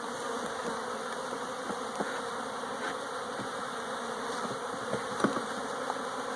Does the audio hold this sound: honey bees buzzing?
yes